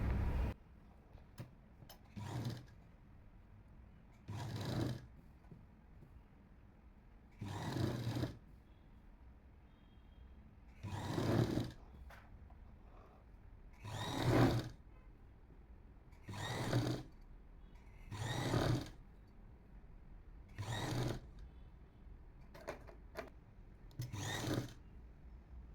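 A sewing machine stitches a seam on a top in short, separate bursts of whirring, about a dozen runs with quiet pauses between them, heard fairly faintly.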